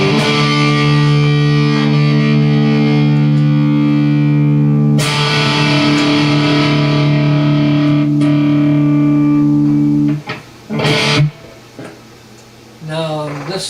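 An electric guitar through a Carvin Quad X amp on its insane sustain channel with graphic EQ engaged, playing loose, noodling lines with long, heavily distorted sustained notes, loud and close, ending in a few choppy stabs and gaps.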